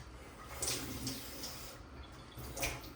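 Water is poured from a tap into whey protein powder in a shaker, a steady soft trickle and splash running throughout, fairly faint and close, with no talking.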